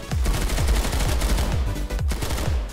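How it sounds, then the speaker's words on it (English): Rapid shotgun blasts in the sci-fi shooter Planetside 2, a steady run of loud, close booming shots about every quarter second with almost no gap, with a brief dip near the end before the firing resumes. "Oh, fucking shotguns,"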